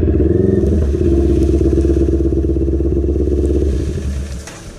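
Kawasaki NK400 and four-cylinder Honda CB650 motorcycles racing, a loud, close, sustained engine roar with steady revving and some clatter before the sound eases off near the end.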